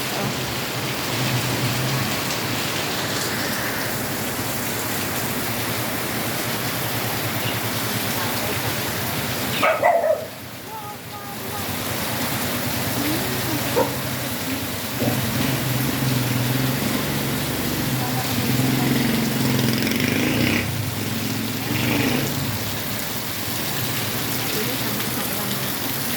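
Heavy rain pours down in a steady, loud roar throughout, with a brief dip midway and faint voices and a dog now and then beneath the downpour.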